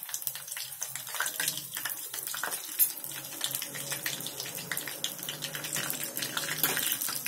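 Cumin seeds and curry leaves sizzle in hot oil for a Bharva baingan masala, giving a faint, steady crackling hiss with no talk over it.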